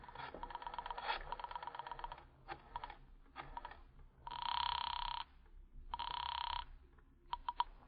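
Telephone ringing in an old-time radio drama: a rattling bell rings in several separate bursts, two of them long and steady, heard alone and close with no talking.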